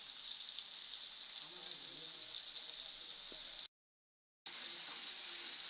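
Spice paste with turmeric and salt frying in a pan for a sea-fish (ila fish) curry, a steady soft sizzle running throughout at low level, with a short dropout midway.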